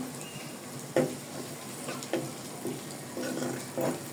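Chopped onion fries lightly in oil with a ginger, garlic and cumin paste for a Bengali katla fish curry, giving a steady soft sizzle broken by a few louder stirring scrapes, close and without voices.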